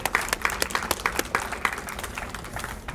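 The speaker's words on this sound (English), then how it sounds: "So please give her a round of applause." An audience at a chamber of commerce press conference gives a round of applause, a busy steady clatter of clapping hands with crisp individual claps, sustained for the full length.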